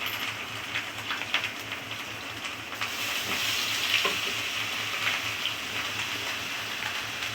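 Chopped tomato and salt frying in a pan make a soft, steady close sizzle with stirring scrapes and clinks that grow a little louder midway, no talking.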